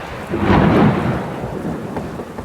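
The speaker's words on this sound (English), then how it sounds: "There was another clap of thunder" A deep, rolling clap of thunder swells quickly and rumbles on, loud and close, with a steady wash of rain beneath it.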